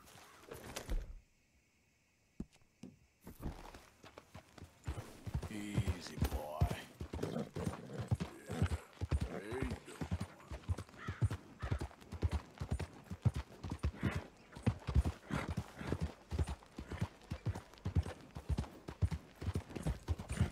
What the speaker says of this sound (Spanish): El caballo.